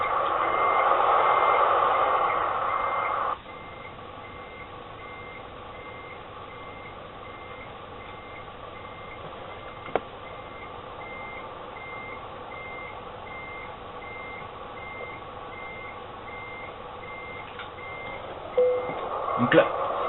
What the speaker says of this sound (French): J'appuie sur reculer au lieu d'avancer pour freiner le camion.